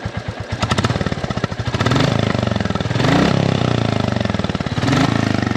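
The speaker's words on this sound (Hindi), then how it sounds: "बाइक का ऑल ओवर एग्जॉस्ट नोट सुना दें" A Royal Enfield Bullet 350 single-cylinder motorcycle idles close by with a steady, thumping exhaust beat, the throttle briefly blipped a few times to higher revs.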